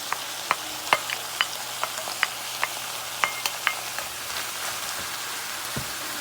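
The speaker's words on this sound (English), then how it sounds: "You want to cook the meat for about 10 to 15 minutes." Ground meat sizzles in a pan with onions and spices, a low even hiss broken by regular sharp spoon taps and stirring clicks, fairly close, with no one speaking.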